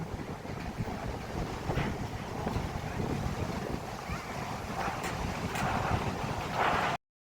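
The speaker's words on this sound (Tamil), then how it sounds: "எப்படி காற்றும் அலையினுடைய ஓசையும் கேட்குதுன்னு பாருங்களேன்." Wind buffets the microphone over the steady wash of sea waves at Gokarna on the Indian coast, a rough continuous roar with occasional gusts and no talking.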